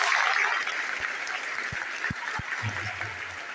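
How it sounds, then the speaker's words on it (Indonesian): A crowd at a motivational event at a modern Islamic boarding school gives a steady wash of applause, loud at the start and then easing off, with a few sharp knocks and a brief low voice near the end. "Tepuk tangan buat kalian semua hari ini."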